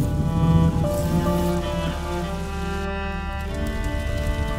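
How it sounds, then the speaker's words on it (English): Steady rain falls in a medieval video game scene from A Plague Tale: Innocence, a continuous even hiss of drops on surfaces, with a low droning tone held beneath it. "would you mind if we get out of the rain, please?"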